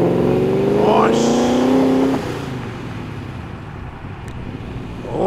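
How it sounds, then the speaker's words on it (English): A V8 muscle car leaving a street car show in Sydney burbles and revs as it pulls away, a loud nearby rise in engine note that fades into lower crowd and traffic noise. "Love it, the Burble of the V8."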